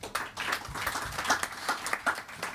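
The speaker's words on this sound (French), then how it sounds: "Merci de l'applaudir." An audience at an economics conference session applauds after a talk, with a brief, moderately loud burst of mixed clapping that continues steadily throughout.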